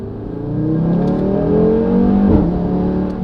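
An Audi RS3 sedan's five-cylinder engine revs up loudly and drops back as the gears shift down, a steady throaty roar with a brief surge near the end.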